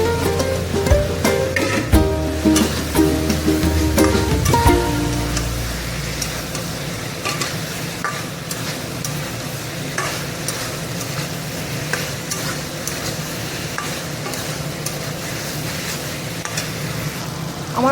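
Fish cooks in spiced masala with potatoes in a pan, a constant sizzle with dense, clattering stirring strokes that sound louder at first, then settle into a softer, steady frying hiss with occasional scrapes.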